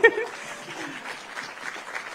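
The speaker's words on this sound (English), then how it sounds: "Give him a clap." An audience at a company anniversary service claps for a couple of seconds, a moderate patter of many hands at a slight distance, with a voice briefly audible at the start.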